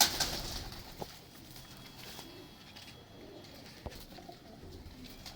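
A single pigeon in a fancier's loft coos faintly against a quiet background, with a couple of soft knocks along the way.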